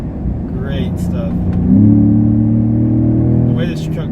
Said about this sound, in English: Definitely can tell you that this engine is making some noise.